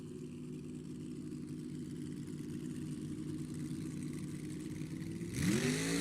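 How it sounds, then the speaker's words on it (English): 388-cubic-inch Chevrolet funny car engine at Sacramento Raceway, a steady heavy rumbling drone that rises sharply into a loud rev near the end, heard from a distance without talk. "just loves doing those burnouts. That is 388 inches of Chevrolet."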